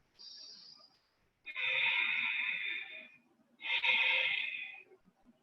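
Close, breathy airflow: a soft breath followed by two long, forceful exhales, each fading out in quiet surroundings.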